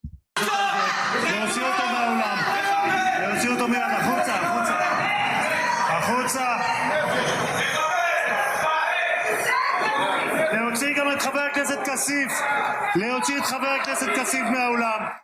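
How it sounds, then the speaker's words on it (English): Crowd of protesters shouting and cheering at a political event, a dense continuous roar of many voices with whoops and yells, loud and sustained throughout. "And here are the protesters."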